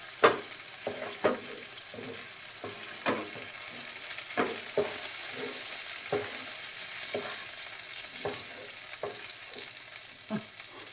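Onions sizzle steadily in hot oil while a utensil scrapes and stirs the pan in irregular clinks, close up, with no talking.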